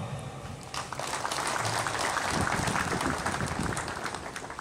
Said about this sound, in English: can we put our hands together and clap for them?